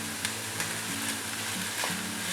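Grated coconut being stirred into chickpea sundal in a frying pan, a steady close sizzle with light rhythmic scraping of the spatula against the pan, no speech.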